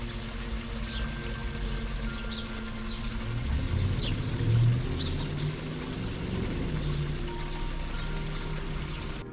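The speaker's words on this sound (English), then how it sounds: "The waterfall also has a nice water flow sound." A small waterfall in a rock-lined backyard pond, with a steady broad rush of flowing, splashing water throughout, faint chirps above it and a low background hum.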